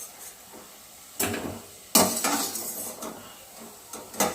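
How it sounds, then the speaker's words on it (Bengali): Fried raw-banana koftas are lifted from a pan into a bowl, marked by a few sharp metallic clinks and scrapes of a utensil against cookware, separated by quiet stretches with faint background sizzle. "এবার আমরা কোপ্তাগুলো তুলে দিচ্ছি একটা বাটির মধ্যে।"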